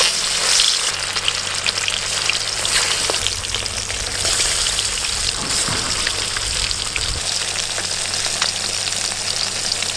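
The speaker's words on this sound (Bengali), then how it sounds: "এই মাছের ভালো স্বাদ পেতে হলে মাছ কিন্তু খুব ভালো করে ভাজতে হবে।" Fish pieces fry in hot oil, a loud, dense crackling sizzle that stays close and constant for the whole stretch, with a brief low clunk partway through and no talking.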